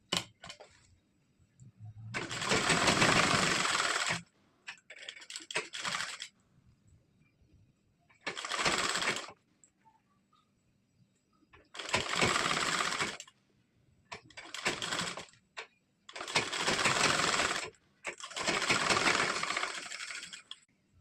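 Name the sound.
sewing machine stitching blouse side seam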